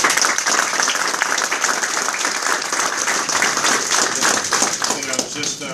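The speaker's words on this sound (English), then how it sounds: "Please give all of them a big, big round of applause." Audience at a city streets department ribbon cutting breaking into a big round of applause, dense sustained clapping close and loud throughout, with voices mixed in under it.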